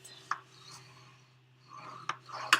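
Card stock being scored for a Valentine's treat box, heard as a few short, quiet scraping strokes spaced apart, with no talking.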